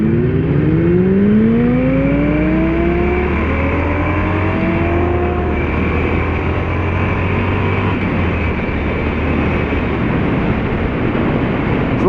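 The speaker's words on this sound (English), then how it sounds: "that's about as good as this bike will do 0 to 60" A 2016 Harley-Davidson Forty-Eight Sportster XL1200X accelerating hard from 0 to 60, its engine note rising through several gear changes as a loud, rough, close-up roar with steady wind noise and no talk.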